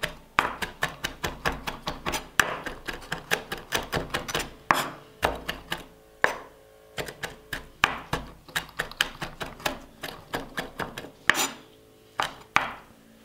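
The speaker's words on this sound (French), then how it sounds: "J'ai ici une grosse cuillerée de capre sous sel, j'enlève pas le sel, et je vais couper" A knife finely chops salted capers, their salt left on, on a cutting board in quick, irregular bursts of sharp taps, with short pauses between runs.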